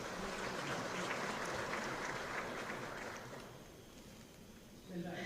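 Warm applause from a large audience at the opening ceremony of a multinationals summit in Qingdao, a dense steady roar of clapping that thins out toward the end, where a faint voice begins.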